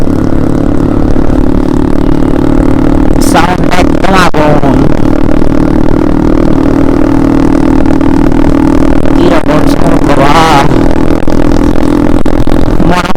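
A motorcycle engine runs steadily with loud, rough exhaust and a couple of sharp revs, close up, with clattering mechanical noise throughout.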